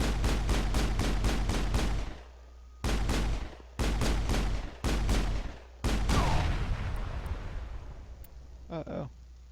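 Rapid bursts of automatic gunfire ring out in the Mass Effect video game, several loud volleys separated by brief pauses, then a longer echoing burst that fades into a rumbling tail.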